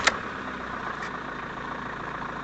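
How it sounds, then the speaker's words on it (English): A 2005 Jeep Liberty CRD turbo diesel, warm weather so no glow plug needed, settles into a steady idle around 700 RPM right after a cold start. There is one sharp click at the beginning and another faint tick about a second in. "That's a cold engine start."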